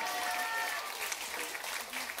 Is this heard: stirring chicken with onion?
no